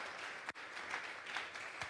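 A church congregation claps together as an offering of praise, a fairly quiet, dense patter of hands with a few sharper accents, no speech over it.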